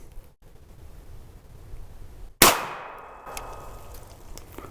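A single sharp, loud gunshot from a Canadian Hi-Point long barrel carbine firing Perfecta 115 grain ammo, with a ringing metallic tail and quiet outdoor background before and after.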